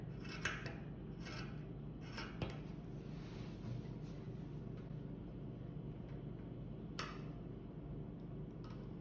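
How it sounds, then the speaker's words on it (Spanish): Scissors snipping through a T-shirt to turn it into yarn, several soft, close cuts in short clusters over faint background hum. "So you want to take your scissors, quieres tomar tu tijera y vas a empezar a cortar hacia arriba."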